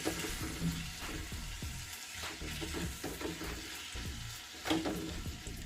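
Tomatoes and curry leaves cook in a pan for rasam, giving a quiet, steady sizzle with a few soft stirring scrapes and light splashy bursts, and no voices.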